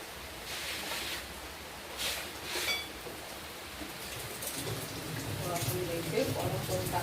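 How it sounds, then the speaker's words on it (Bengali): Light rain falls outside a home, a soft, steady hiss of drops that stays faint throughout, with brief muffled voices and household sounds rising toward the end. "বৃষ্টি শুরু হয়েছে"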